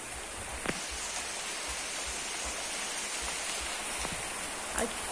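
Steady soft hiss of light rain falling, with a few faint drops and small noises near the start and end.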